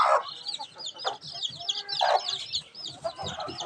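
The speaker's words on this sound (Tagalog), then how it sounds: "dito po yung 11 ng mga sisiw na bago lang pong napisa. Yan po sila." A brood of eleven five-day-old chicks peeps continuously inside a large coop, a dense chorus of high, overlapping chirps heard up close with no talk.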